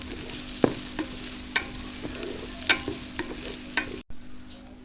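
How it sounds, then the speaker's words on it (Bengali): Chopped onion fries in hot oil in a pan for a dried fish pickle, a steady bright sizzle with sharp clicks from stirring, cut off abruptly near the end. "পেঁয়াজ কুচিটা তেলে ছেড়ে দিয়ে হালকা ভাজা ভাজা করে নিব"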